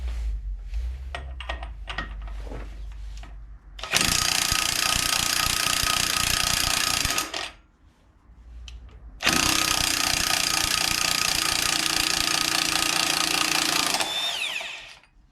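Loud impact wrench or power tool bursts on a stuck nut on a Stels Leopard quad bike variator, two long roaring runs of about three and five seconds separated by a short pause, with faint handling clicks before.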